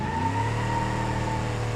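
Supercharged V8 and regular V8 cars launch side by side in BeamNG Drive, a steady loud engine drone with a sustained high whine, heard alone without talk.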